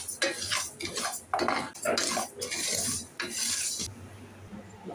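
Rice dry-roasting slowly in a pan over low-medium heat, with repeated loud scraping and clinking of a utensil against the pan in uneven bursts, close by and without talk.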